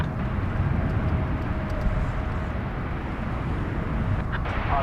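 An American Airlines Airbus A321 jet taking off at DFW Airport at night, a steady broadband engine roar held at an even, fairly loud level throughout.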